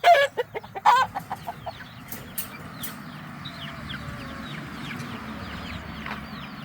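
Chickens cluck in a quick burst of loud, close calls, then softer clucking and faint chatter continue over a low background rumble.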